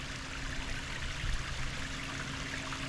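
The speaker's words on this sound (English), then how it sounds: "This is like a cascade here." Water runs down a small rocky cascade at Gunpowder Falls in a steady, moderately faint rushing flow, continuous and unbroken with no voices.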